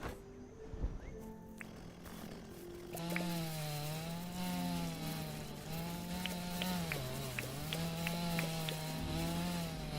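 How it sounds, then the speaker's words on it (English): Chainsaw cutting a sturdy plant in the farming game Dinkum: a steady, loud buzzing engine drone with wavering pitch that starts a few seconds in and runs continuously, over faint background game sounds. "I love using the chainsaw once."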